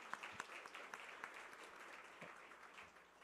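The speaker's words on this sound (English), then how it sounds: "Clap for Joe" Faint scattered clapping from a small audience, brief and distant-sounding, tapering off without any speech.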